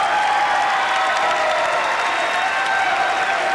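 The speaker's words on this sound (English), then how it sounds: "And a huge round of applause." A crowd at a 1997 BV vs Central men's basketball game applauds steadily, a broad roar of clapping with some cheering, loud and sustained across the whole stretch over a constant arena hum.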